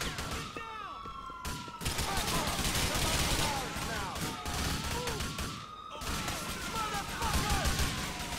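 Rifle fire in Grand Theft Auto IV comes in rapid bursts and scattered shots over a wailing police siren, loud and continuous for the whole stretch, with a voice talking over it.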